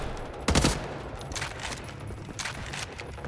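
Gunfire in a Wolfenstein shooter, a handful of short bright bursts, the first loudest, spread across a few seconds over a low background hum.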